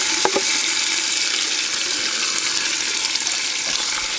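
Tomatoes and onion fry in a pan while being stirred, cooking a base for a pressure-cooked rice dish. A steady, dense sizzle runs throughout, with a couple of sharp clinks of the stirring utensil near the start.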